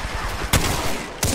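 Two sharp, loud gunshot bursts from Apex Legends crack out over steady game background noise, one early and one near the end, each a short broadband blast.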